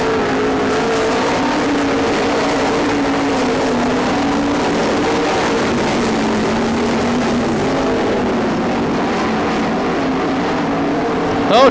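Race cars roaring around a dirt track late in a race, a steady loud engine drone from several cars blending together throughout, with no talking.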